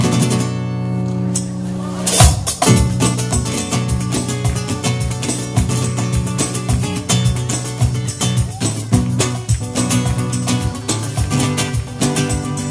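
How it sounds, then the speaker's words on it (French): An electronic drum kit plays a busy rhythmic pattern at close range, sharp hits over a sustained chord, loud and continuous throughout. "J'ai une batterie électronique, vous allez voir, ça fait comme ça."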